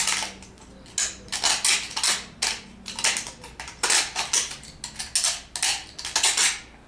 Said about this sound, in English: just take my little Stanley knife, it's a little utility knife, and just scrape away the rough edges